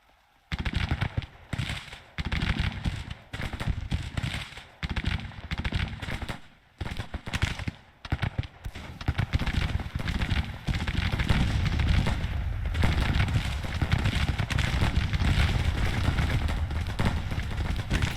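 Musket volleys in Grand Tactician, a Civil War campaign between Union and Confederate forces, crackle in loud ragged bursts that build into dense, continuous rolling fire from many muskets.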